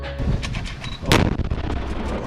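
An explosive charge detonated during military demolition training with engineer cadets, a loud sudden blast followed by a rumbling, crackling decay, preceded by quieter outdoor noise and no speech.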